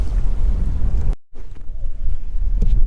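Wind buffeting a boat on Lake Oneida in drizzly weather, a loud low rumbling roar that cuts out abruptly for a moment, then returns slightly softer with gusty bursts.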